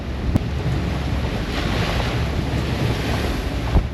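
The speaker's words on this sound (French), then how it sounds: "la mer est dégueulasse évidemment, elle se croise très rapidement" Strong wind and a rough, choppy sea around a sailing catamaran between the Tiputa pass of Rangiroa and another pass, a loud, continuous rushing roar with gusty buffeting of the microphone and a couple of sharp knocks.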